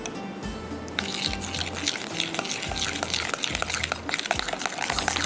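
Drops of liquid added into a banana and cream dessert mixture, a busy wet patter of quick drips and splashes close up, continuous and moderately loud with no speech.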